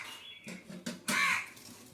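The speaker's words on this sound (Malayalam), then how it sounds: "കാക്ക എന്താ പറയിപ്പിക്കാൻ നിൽക്കണിപ്പോൾ" A crow caws several times nearby, harsh repeated calls with the loudest, longest caw toward the end.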